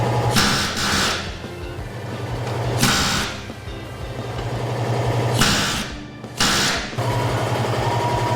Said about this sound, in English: That plasma cutter makes quick work of them rivets